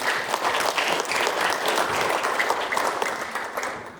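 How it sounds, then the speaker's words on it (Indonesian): Applause from an audience at a formal regional government ceremony in Gowa Regency, a steady dense wash of clapping that holds evenly and eases slightly at the end. "Tepuk tangan dulu."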